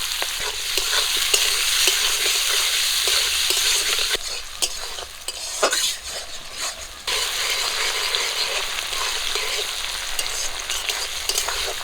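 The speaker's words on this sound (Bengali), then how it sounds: "গরম তেলে দিয়ে দিচ্ছি গোটা জিরে কাঁচা লঙ্কা চেরা পেঁয়াজ কুচি" Loud, steady sizzling of cumin seeds, green chillies and onion frying in hot oil, with a brief stirring scrape midway before the continuous hiss returns.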